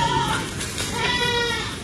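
Goat bleating on a breeding farm, a wavering voiced call rising and falling over about two seconds, fairly close and moderately loud.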